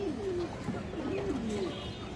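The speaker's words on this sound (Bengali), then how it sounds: "এই দেখেন একদম পিওর খরা গলা নর কবুতর দর্শক।" A purebred male Khora-neck pigeon coos softly nearby, a short run of low, rolling coo notes over a faint background.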